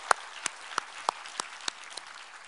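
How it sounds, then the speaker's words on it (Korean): During a Sunday church service, about eight sharp, distinct claps sound in a steady rhythm over two and a half seconds, fairly quiet and spaced apart rather than a full crowd's roar. "우리 하나님께 감사와 영광의 박수를 드리겠습니다"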